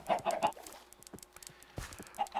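Chickens in a Minecraft farm cluck in short, repeated bursts, a few quick clucks at the start and more near the end, with faint game noises between and no talking.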